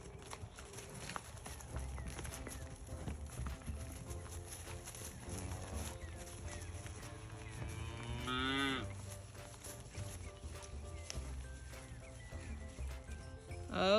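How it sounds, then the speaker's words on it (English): Cattle in a pasture, waiting to be let into a paddock during rotational grazing, moo loudly and repeatedly, one long bellow rising clearly above a busy outdoor background of shuffling hooves and rustling. "Cows are all waiting patiently to go into the paddock."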